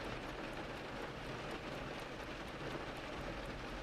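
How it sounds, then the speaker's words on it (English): Steady rain falls in an even, dense hiss, a constant wash of drops with no voices or other distinct sounds. "the rain seems to briefly up its tempo before resuming its steady rhythm"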